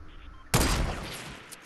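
A sudden burst of gunfire in a video game, a sharp loud crack followed by a rattling decay and a faint second shot.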